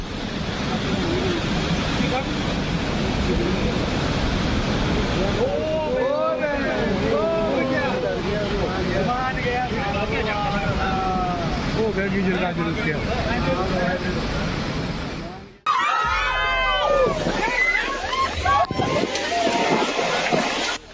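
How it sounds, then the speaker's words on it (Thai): Large waves near four metres high slam against a speedboat in Phuket bay, a continuous roar of wind and churning water across the whole stretch, loud and close, with a sudden sharp cut partway through. "คลื่นที่ซัดเข้ามาในวันนั้น สูงเกือบ 4 เมตร ซัดเรือสปีดโบ๊ทกลางอ่าวภูเก็ต จนมันแทบจะพลิกคว่ำเลยทีเดียว"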